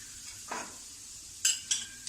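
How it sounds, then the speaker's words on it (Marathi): Mustard seeds and cumin crackle in hot oil for a poha chivda, with a faint sizzle carrying a few sharp, distinct pops spaced out over about two seconds. "आपली राई छान तडतडली आहे। थोडंसं जिरं टाकूया।"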